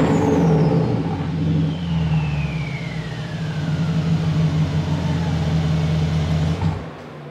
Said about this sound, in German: aber die Turbos sind präsent.